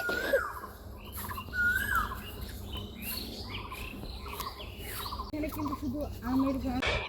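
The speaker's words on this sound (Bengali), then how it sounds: "পাখির ডাক শোনেন।" Birds perched on a wire near a garden and farmland call repeatedly, with varied chirps and whistles at moderate distance over a constant insect-like outdoor hum.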